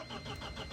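A truck engine cranks and catches in heavy snow in China, a brief, faint, rough mechanical churn heard alone.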